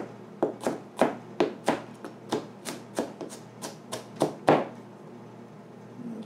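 Repeated chops of a hand chopper cutting vegetables flat for a deer and wild game chili, about a dozen sharp, close impacts in a steady rhythm, then a brief quiet tail.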